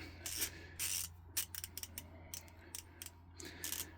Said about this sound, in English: it feels like it clicks in pretty good